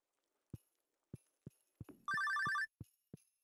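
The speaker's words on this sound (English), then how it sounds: "Oh, phone's ringing again." A telephone rings in the Stardew Valley video game: a short, bright trilling burst of rapid bell tones stands out among sparse soft clicks and taps.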